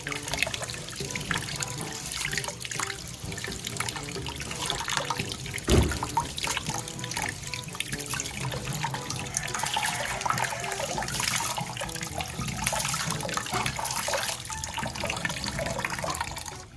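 Glutinous rice being washed in water, a steady close swishing and trickling wash that carries on throughout without pause.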